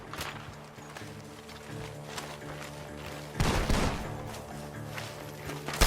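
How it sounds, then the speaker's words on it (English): Gunfire in the video game Red Dead Redemption II, scattered shots with one heavy burst near the middle over a steady music bed, with hoofbeat-like thuds and a final loud crack. "The gunshots are coming from that barn."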